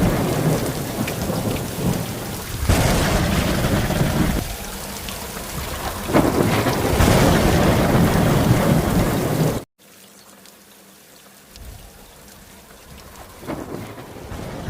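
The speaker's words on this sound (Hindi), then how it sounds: "तभी अचानक गांव में बहुत जोर बारिश होती है।" Heavy rain pours steadily with deep thunder rumbling through it, then the roar drops suddenly to a lighter, quieter rainfall.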